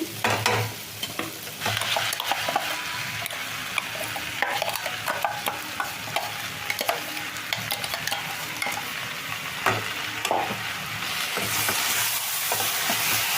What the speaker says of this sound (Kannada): ಒಂದೆರಡು ನಿಮಿಷ ಮಸಾಲೆ ಬೆಂಡೆಕಾಯಿ ಜೊತೆನೆ ಫ್ರೈ ಆಗಲಿ